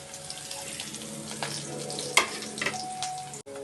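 Red chillies and chopped curry leaves sizzle in hot oil for dal fry, a soft, steady frying crackle with a few small clicks and clatters, fairly faint and without talk.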